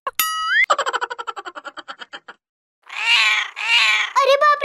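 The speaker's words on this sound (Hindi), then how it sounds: "ये बिल्ली के बच्चे कहाँ से आ गए?" Cartoonish springy boing effect followed by a run of quick bouncing notes, then two loud drawn-out meows and short squeaky mews from kittens, close and clear against silence.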